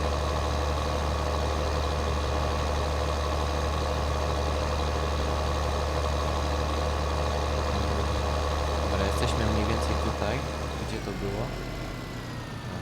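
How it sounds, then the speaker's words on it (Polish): A tractor engine in the video game Farming Simulator 2013 drones loudly and steadily at a low pitch, a constant idling hum that shifts and quiets slightly near the end. "trochę głośny jest ten ciągnik"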